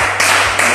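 A short burst of audience applause at a sales training seminar, with dense clapping at close range that swells and stays loud for under a second.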